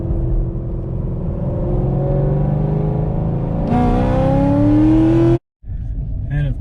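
A 1969 Camaro engine pulls hard, a steady low rumble that climbs in pitch as it accelerates and grows louder, then cuts off abruptly before resuming briefly at a lower idle.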